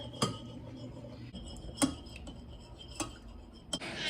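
A whisk taps and clinks against a bowl as eggs are beaten, giving a few soft, irregular metallic ticks over a quiet background.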